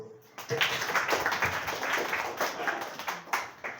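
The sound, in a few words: audience clapping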